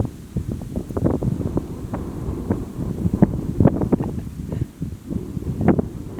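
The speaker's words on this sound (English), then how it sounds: "And the wind is kicking up again." Gusty autumn wind buffets the microphone outdoors on a lake at Labrador Hollow, loud rumbling bursts and low roaring rising and falling with no voices.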